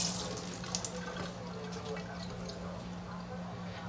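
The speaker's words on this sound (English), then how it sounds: "Give my hands a little rinse." Hands rinsed under a running kitchen tap while making fresh mozzarella, a steady close splashing of water into a sink, fairly quiet, with no one speaking.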